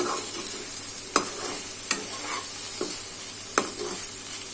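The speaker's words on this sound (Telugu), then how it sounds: "ఇవి కూడా వేసేసుకుందాం బాగా కలుపుకోవాలండి కారం పట్టేలాగా" A spoon stirs okra curry with dried prawns in a pan, giving several sharp scraping clinks over a low, steady sizzle, close and moderately loud with no talk.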